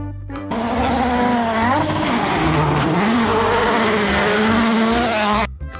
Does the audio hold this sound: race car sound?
yes